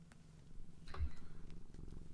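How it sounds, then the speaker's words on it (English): A cat purrs close by with a soft, steady low rumble in gentle pulses, fairly quiet, with no talking over it. "Also joining us on my side is a cat."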